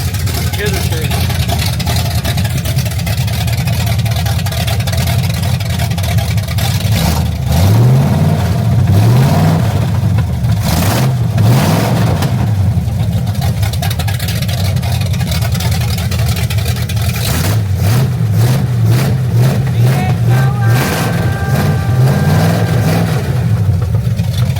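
A 1974 Corvette engine with straight headers runs loud and raw, with several sharp revs rising and falling over a rough, continuous rumble.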